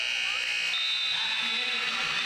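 A buzzer sounds at the end of an under-18 championship game: a steady, high, sustained tone starts partway through and holds to the end over loud, continuous crowd noise.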